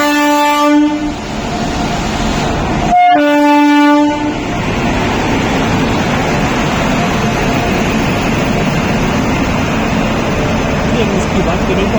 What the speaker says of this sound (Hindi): ट्रेन 22/307 जो कि हावड़ा से चलकर बीकानेर को आती है, ये सुपरफास्ट ट्रेन है